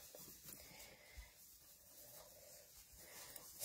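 Soft rubbing and buffing across a painted surface, a faint, steady dry scuffing close by with small bumps in pressure, no talk over it.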